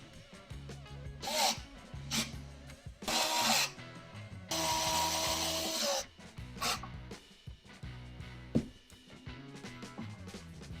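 A power driver sends machine screws in to fix a plate onto a 3D printed guitar core, with several short whirring bursts separated by clicks and handling noises, close and moderately loud.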